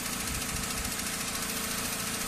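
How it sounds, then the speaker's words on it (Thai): A car engine idles steadily close by during an alternator charging-voltage check, a continuous low rumble with a faint rhythmic knock and no voices. "ผมได้ทำการติดเครื่องยนต์ขึ้นมาแล้วนะครับ"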